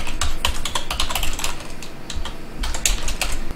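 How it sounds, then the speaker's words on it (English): Rapid, irregular clicking of keys on a computer keyboard, close and clear, with steady bursts of keystrokes and no talking. "simply typing implements on-click listener"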